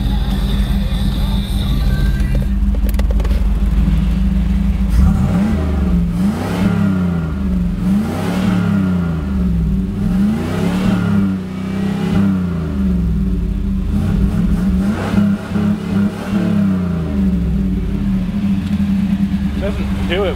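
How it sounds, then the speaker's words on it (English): A Camaro engine revs repeatedly, rising and falling in pitch several times, loud and close, with a steady idle rumble between revs. "It doesn't do it when it's when you just rev it at idle."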